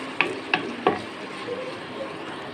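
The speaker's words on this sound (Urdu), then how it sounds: "اس میں ڈال رہا ہوں 2 عدد پیاز ہے، باریک کاٹا ہوا ہے۔ پیاز کو ہم گولڈن فرائی کریں گے۔" Two finely chopped onions fry in half a cup of cooking oil with a steady, close sizzle, broken early on by three sharp knocks of a stirring utensil against the pot.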